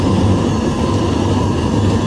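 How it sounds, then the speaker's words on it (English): A train rumbles steadily in the Roblox game Trainware, a dense, loud, continuous low drone of rolling wheels and engine with no pauses and no talk. "it's literally just like you drive a train everywhere"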